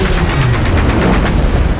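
Loud grenade blasts and rapid gunfire in Generation Zero, a dense continuous barrage of booms and cracks close by with no voices.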